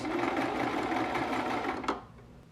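A sewing machine backstitching a fabric scrunchie of cotton or knit with silk, a close steady mechanical whir running for about two seconds before stopping with a short clack.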